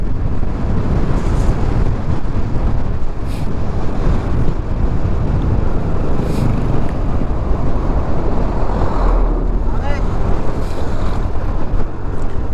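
Big sea waves wash and churn during a boat crossing between Batangas and Mindanao, heard as a steady, loud broadband roar mixed with strong wind buffeting the microphone, no voices.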